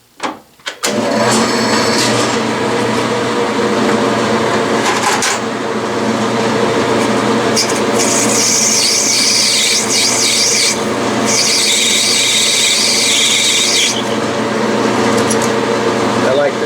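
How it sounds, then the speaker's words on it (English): A metal lathe runs steadily while parting off a workpiece held directly in the chuck during a horizontal steam engine build, a loud constant machine drone with bursts of high cutting squeal. "And now I'm ready to cut off, to part it off, and I'm held directly in the chuck again."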